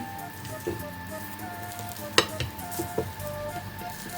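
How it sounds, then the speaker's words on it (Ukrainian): Cheese pancakes with herbs fry in a pan, sizzling steadily and close up, with several sharp clinks and scrapes of a utensil against the pan. "Обсмажуємо з двох сторін."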